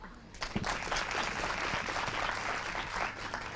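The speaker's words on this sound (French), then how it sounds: "vous pouvez applaudir" Audience applause for schoolchildren at a televised children's quiz competition in Senegal, a steady moderate wash of clapping from a crowd, slightly distant and sustained without pause.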